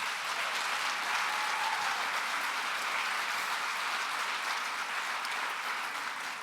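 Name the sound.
audience applause at gala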